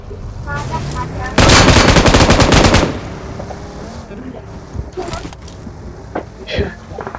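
Automatic weapon fire in the PUBG Mobile video game erupts as one loud, sustained burst lasting over a second, followed by a few scattered single shots, while a player talks excitedly throughout.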